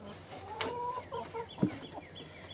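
Chickens clucking inside a homestead chicken house, a few soft murmured clucks and one sharper call among quiet background rustling, moderately near and fairly faint.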